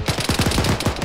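A quick rattling string of about ten close, evenly spaced gunshots fired in rapid succession, loud and sharp with no voices.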